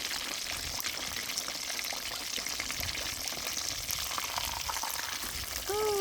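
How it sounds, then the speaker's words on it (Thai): Steady crackling sizzle of fish frying in hot oil in a pan outdoors, continuous and close, with a brief clatter near the end. "ทอดปลาแบบอย่างสวยนะ"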